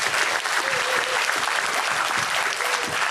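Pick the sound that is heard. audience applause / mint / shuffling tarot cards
audience applause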